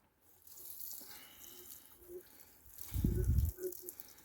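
Water runs and splashes intermittently while watering garden plants such as sorrel and dill, with a louder gush near the end, over faint outdoor background noise.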